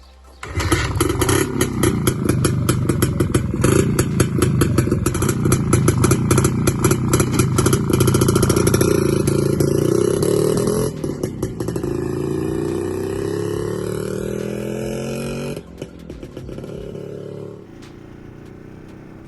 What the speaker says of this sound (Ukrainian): потім я знову завів мотор